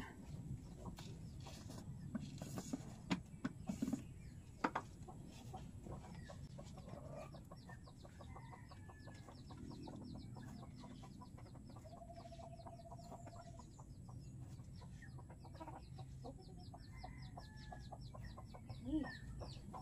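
Chickens clucking softly as they peck at scattered feed outdoors, with scattered quick pecking taps and occasional brief calls at a moderate distance, fairly quiet overall.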